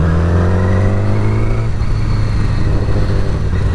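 A Yamaha R6 four-cylinder sport motorcycle engine hums steadily while riding, a loud close drone with a strong low tone that shifts pitch partway through as revs change.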